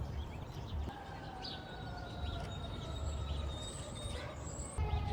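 Faint, distant sirens wail and slide in pitch across a city neighborhood, with birds chirping and a soft urban background rumble and no nearby voices.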